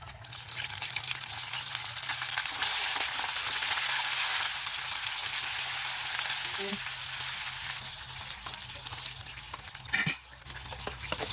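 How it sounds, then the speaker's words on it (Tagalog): Oil crackles and sizzles loudly and continuously as chicken wings deep-fry in a second fry, a dense steady hiss with a few brief clatters. "kumukulo na yung ating pangalawang oil para sa ating second fry"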